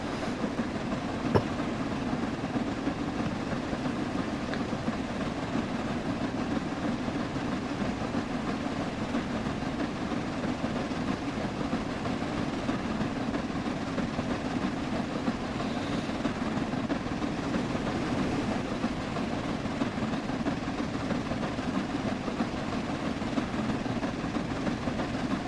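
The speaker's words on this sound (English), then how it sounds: "I just love hearing the sound of the chuff, the Flying Scotsman" Steam locomotive 60103 Flying Scotsman running steadily, a continuous dense rumble of chuffing and rolling wheels heard from aboard or close by, with faint rail clatter and no talking throughout.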